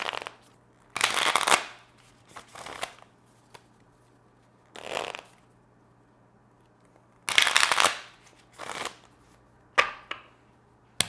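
Several bursts of a card deck being riffle-shuffled and bridged, crisp and close, separated by quiet pauses.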